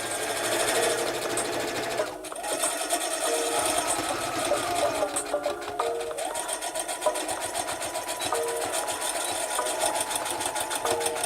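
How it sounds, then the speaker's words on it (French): A sewing machine stitches the hem, ribbon and heart trim onto a small fabric doll dress made from a hand towel, running in steady bursts with brief pauses and changes of speed, close and clear. "que je vais tout simplement coudre à la machine"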